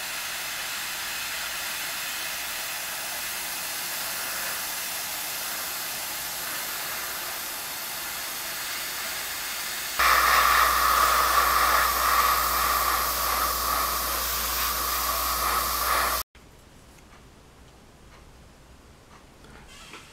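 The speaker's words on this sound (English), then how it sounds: "now I'm going to use my airbrush and start painting the model kit" An airbrush sprays paint onto a 1/35 scale Bronco Ram model tank, producing a steady airy hiss that swells louder midway, then cuts off, leaving a faint background hum.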